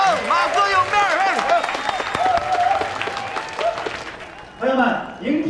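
An audience applauds in a bar after a singer's performance, scattered clapping running beneath people talking loudly nearby.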